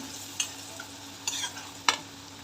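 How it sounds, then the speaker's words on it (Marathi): A spoon stirs turmeric, chili, coriander and cumin powders in a pan for a French beans and potato dish, making three short, close scrapes over a quiet, steady sizzle. "अर्धा चमच हळद एक चमच मिरची पावडर एक चमच धना पावडर एक चमच जिरा पावडर छान प्रकारे मिक्स करून घेऊया"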